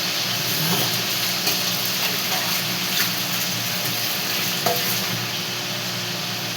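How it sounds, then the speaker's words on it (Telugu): Dried fish fries with turmeric in a pot, giving a continuous loud, close sizzle and bubbling hiss, with occasional soft scrapes of stirring throughout. "ఇట్లా వేగాక చక్కగా పసుపులో వేపుతున్నాం"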